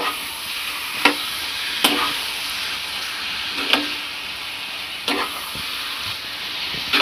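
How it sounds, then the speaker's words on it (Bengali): Bottle gourd frying with spices, a steady sizzle in a pan, with a few sharp scraping clicks as it is stirred at irregular intervals. "লাউটাকে এখন আর একটু কষাতে লাগবে মশলার সাথে।"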